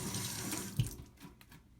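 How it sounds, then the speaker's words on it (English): Water runs steadily from a kitchen tap as hands are rinsed beneath it while preparing chicken fillets, a constant close splashing hiss with a small knock partway through and no talking. "Want to rinse your hands a little bit."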